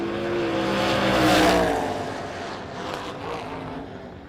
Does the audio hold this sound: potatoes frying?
no